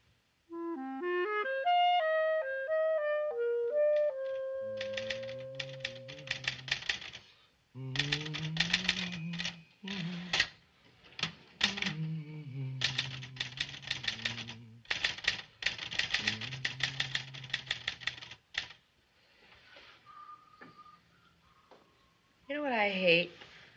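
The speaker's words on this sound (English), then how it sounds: "Typewriters." Typewriters clatter in rapid bursts of keystrokes separated by short pauses, loud and close, after a brief melodic passage at the start, with voices talking over parts of it.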